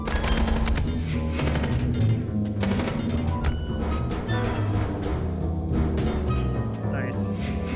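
Gunfire rattles in the video game Chicken Police: rapid, loud bursts of automatic shots and sharp cracks fill the scene with barely a break.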